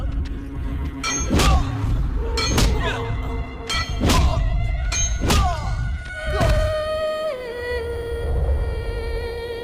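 Heavy thuds of a man being beaten in a Hindi horror film, several loud blows landing at irregular intervals over a tonal, droning film score.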